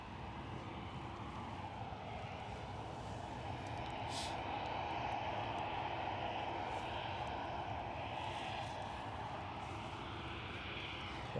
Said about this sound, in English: And off goes the KLM. KLM don't hang around.